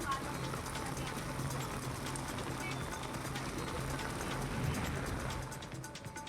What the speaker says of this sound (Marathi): उरणमध्ये मुसळधार पाऊस कोसळला.